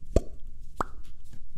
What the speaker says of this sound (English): It's just that pleasing little water bubble pop sound.